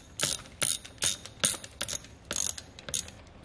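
A ratchet loosening the 3/8 hex transmission fill plug on a Harley twin cam touring motorcycle, a close series of sharp metallic clicking pawl bursts in an uneven rhythm, about eight in all, with no talk.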